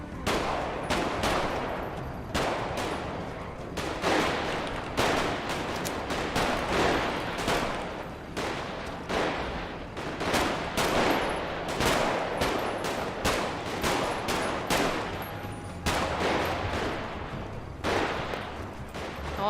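Rapid bursts of gunfire in the video game GTA V roleplay, loud repeated shots and fast volleys crackling almost without pause.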